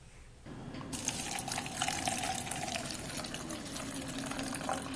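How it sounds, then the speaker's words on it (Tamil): Water pours steadily into a bowl of agar-agar (china grass) after a brief quiet start, a continuous close splashing gush that gradually settles. "இந்த அகரகர் ஊறுறதுக்காக அது மூழ்கிற அளவுக்கு நான் தண்ணி ஊற்றிருக்கேன்"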